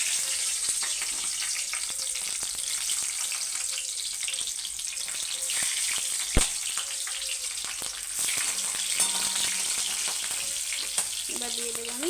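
Green chilies dropped into hot oil tempered with black cumin and five-spice, giving a steady close sizzle and crackle with a few sharp pops and utensil knocks, fairly quiet and continuous.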